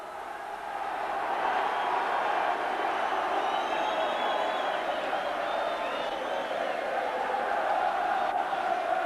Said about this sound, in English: And this crowd is waiting for this one.